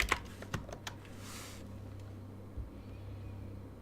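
A few quick keyboard taps from the video game Stories Untold, crisp clicks clustered at the start over a steady low hum, then mostly quiet background.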